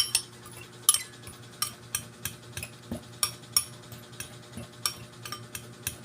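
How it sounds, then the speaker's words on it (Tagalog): A spoon clinks rhythmically against a container while stirring a vitamin mix for chickens, producing a steady series of sharp metallic taps at close range with no talking. "haluin nyo lang po na maayos"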